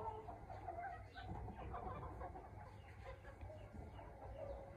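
Village hens cluck softly and intermittently as they are fed grass, a quiet, low-level farmyard murmur with no talking.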